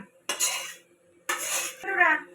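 Chopped mixed vegetables for a labra curry tumble into a cooking pot in two separate bursts of hissing clatter, close and fairly loud, followed by a brief softer rattle.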